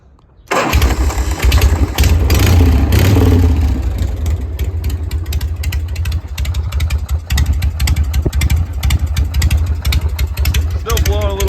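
A 1981 Harley-Davidson FX Shovelhead with newly finished exhaust and fresh rewiring cranks and fires up, then settles into a loud, lumpy, uneven idle that thumps on close to the mic for over ten seconds.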